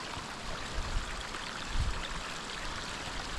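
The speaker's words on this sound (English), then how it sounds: "Little waterfall going off the side there." A small waterfall along the Overland Track in Tasmania on a wet day gives a steady, soft rushing hiss of falling water, heard alone at moderate distance.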